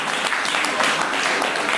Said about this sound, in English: A round of applause for the Honorable Commissioner